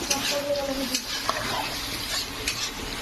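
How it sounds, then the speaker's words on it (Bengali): Potatoes frying in oil in a pan, a loud continuous sizzle mixed with frequent stirring scrapes and light clinks of utensil on metal, close up and without talk. "এখানে আমার আলুটা ভেজে নিচ্ছি"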